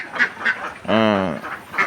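A duck sick with duck plague gives one drawn-out, nasal quack in the middle, with fainter calls before and after, close by.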